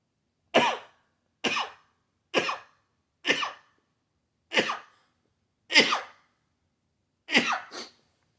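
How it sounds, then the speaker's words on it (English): A person sneezes or coughs in a burst of seven sharp, separate explosive expulsions spaced roughly a second apart, loud and close against near silence, the last one doubled. "Hold on, I got to sneeze."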